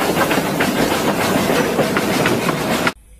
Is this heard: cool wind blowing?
no